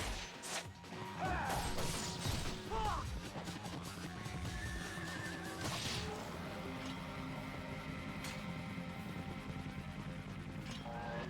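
Horse neighing in the Xbox action game Ninja Gaiden Black, a whinny rising over dense game audio with crashing combat hits, music and clip-clop, loud and continuous throughout.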